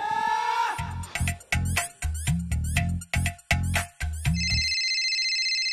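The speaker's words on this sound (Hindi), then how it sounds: "वे किसका फोन आ गया?" A mobile phone ringtone plays as a loud, rhythmic series of repeated melodic bursts with pulsing low tones, then gives way to a sustained bright chime toward the end, with no talking.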